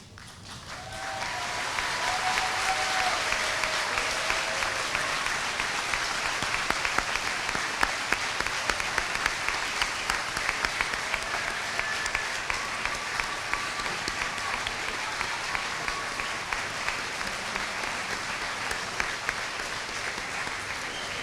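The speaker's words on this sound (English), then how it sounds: "Graduates, Please stand at this time and show your appreciation by applauding your families." High school graduates at a 2018 commencement ceremony stand and applaud, producing sustained dense clapping from a large crowd that fills the space for about twenty seconds, with no talk over it.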